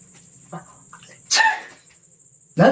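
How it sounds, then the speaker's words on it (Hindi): A girl sneezes once, a sharp, loud burst close by, followed near the end by a second abrupt loud burst over a faint steady tone and low hum. "मुंह पर आकर के छींक दिया"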